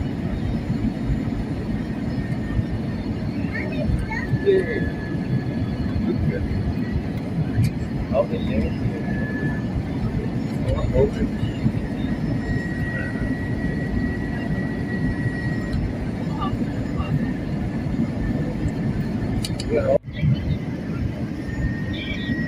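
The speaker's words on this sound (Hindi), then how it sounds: "अब हम इंशाल्लाह बहुत जल्द लैंड करने वाले हैं।" Airplane cabin noise before landing at Skardu forms a constant low rumble and whoosh under occasional speech, with small clicks and rattles scattered through it.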